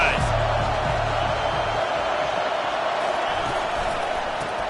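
A packed football stadium crowd at a Texas vs CU college game roars steadily, a dense, loud wash of noise that carries on without a break.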